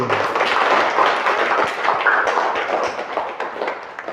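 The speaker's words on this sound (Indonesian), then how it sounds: "Yuk, tepuk tangan dulu" A class of elementary school children claps their hands together, a loud, close, busy patter of many overlapping claps that carries on unbroken, with no talk over it.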